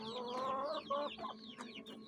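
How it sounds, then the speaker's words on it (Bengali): An aseel rooster being readied for fighting clucks in a run of short, repeated calls, close and fairly loud, with no talking over it. "ফাইটিংয়ের জন্য মোরগ রেডি হইতেছে"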